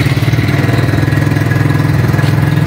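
A Fin Komodo military vehicle's engine running steadily after starting, a loud, close, rhythmic mechanical idle with a throbbing pulse and no talk.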